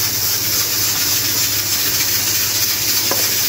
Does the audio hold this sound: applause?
no